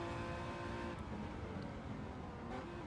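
Ferrari race car engine heard onboard from the front seat during a street car showdown final round, a steady, fairly quiet buzzing roar with a few brief high chirps, no voices.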